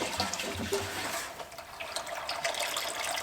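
Diesel is poured into a Case 1830 skid steer, making a continuous splashing, gurgling pour close by with no voices.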